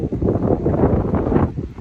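Strong wind at the Thai seaside buffets the microphone with a continuous, gusty, loud rumble that rises and falls over a couple of seconds.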